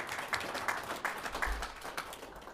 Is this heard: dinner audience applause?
yes